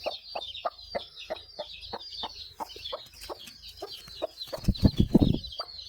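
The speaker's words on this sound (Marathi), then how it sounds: "कोंबडीची पिल्ली" Desi (gavran) hens cluck in steady, repeated bursts with faint high chick peeps throughout, growing busier and louder near the end.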